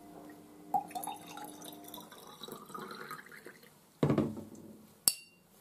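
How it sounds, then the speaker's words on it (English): Water trickles and splashes into a glass, with small clinks and a gurgling pour, followed by a short sharp glassy tap near the end. "Maybe if we fill it with more water,"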